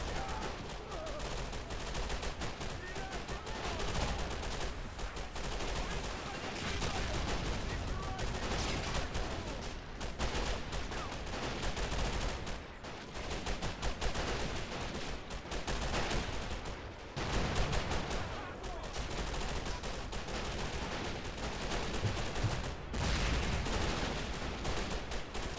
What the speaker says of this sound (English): Explosions all the way back there.